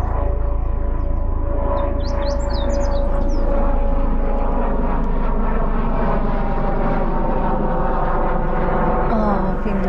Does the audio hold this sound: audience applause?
no